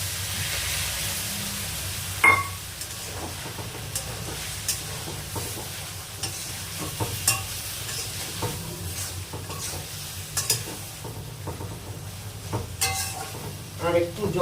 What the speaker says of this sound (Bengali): এবার এই যে চিংড়ি মাছের সেদ্ধর যে জলটা রয়েছে এই জলটা এবার ঢেলে দিচ্ছি।